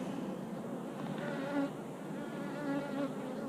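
Honey bees buzzing inside a long hive during an inspection, a dense, continuous drone of many insects close by, holding steady with slight swells and no talking.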